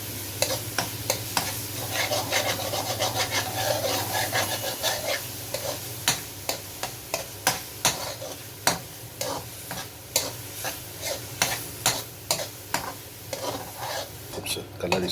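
Fish keema and spices stir-fried in a pan for Karachi-style katakat, a steady sizzle under a run of rhythmic, evenly spaced scraping strokes that grow more regular toward the end.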